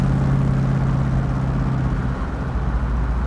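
A 1968 Shelby Hertz Rent-a-Racer Mustang with a stock engine drives down the road, giving a loud, steady low exhaust drone that eases slightly partway through.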